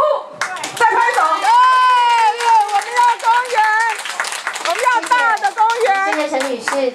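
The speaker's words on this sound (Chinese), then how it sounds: "对的话请用力拍手，再拍手。" Audience clapping at a public meeting, mixed with a loud amplified voice speaking over it for most of the stretch; the applause is patchy rather than a sustained ovation.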